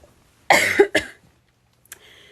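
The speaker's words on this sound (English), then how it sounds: "My cough is still there too." A woman gives two quick, close coughs in a quiet room, followed by a faint rustle.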